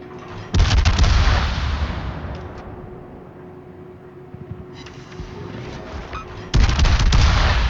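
A heavy cruiser's main guns fire salvos in a World of Warships naval battle, two loud booming volleys, a few seconds apart, each with a rumbling tail that fades out.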